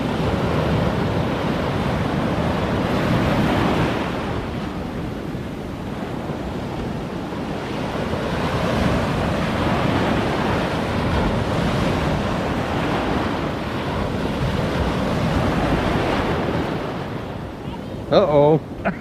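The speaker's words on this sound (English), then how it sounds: "look at some of these waves. There's some pretty big ones breaking out there." Big ocean waves breaking at Long Bay, a continuous loud roar of surf with heavy wind buffeting the microphone, swelling and easing in long surges.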